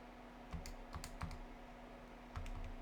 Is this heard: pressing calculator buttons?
yes